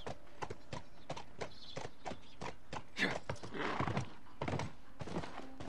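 Horse hooves clip-clop in The Last of Us: a run of sharp, evenly spaced clopping steps at close range with a few heavier thuds in between, and no talking over them.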